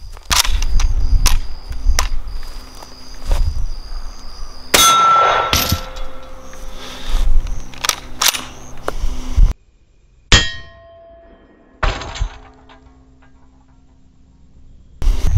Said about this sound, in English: so Jimmy just shot the Mosin for me